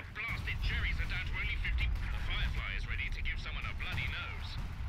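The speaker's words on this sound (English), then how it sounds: "Artillery is going to be dropped here." Artillery barrage in a Battle for Caen campaign video game, a heavy rumbling bombardment of continuous low booms under an excited voice commentating over it.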